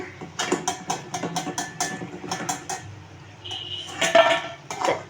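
Fried Indian pennywort (thankuni) leaf fritters are lifted from a pan, with a quick run of close metal clinks, taps and scrapes of a utensil against the cookware, then a pause and a few more clinks.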